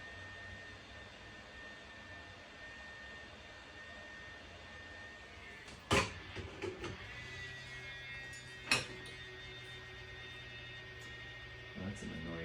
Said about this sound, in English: That's an annoying heat gun, isn't it?